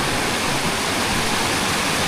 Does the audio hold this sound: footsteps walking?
no